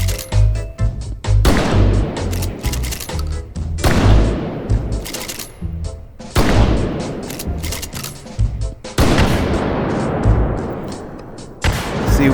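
Repeated heavy shotgun blasts in a Terminator 2 shooting game, about seven loud booming shots spaced roughly every one to two seconds, each with a long rumbling tail, no voices.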